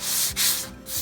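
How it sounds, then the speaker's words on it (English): Painted furniture being sanded by hand with sandpaper, a close, loud scratchy rasp in two quick back-and-forth strokes with a short pause between, no speech. "I'm coming back through here with my sandpaper."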